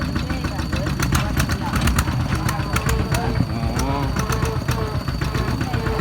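A Thai itaek farm vehicle engine crossing a suspension bridge over 100 metres long above the Mae Chan stream chugs steadily and close by, with rattles and clanks over the motor.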